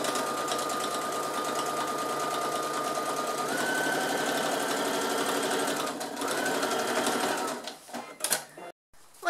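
A sewing machine stitching a second reinforcing seam on a fabric tote bag runs with a steady, close mechanical whir that shifts pitch midway, then stops in a few stuttering bursts near the end.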